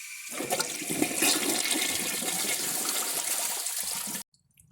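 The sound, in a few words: Kohler Wellworth toilet flushing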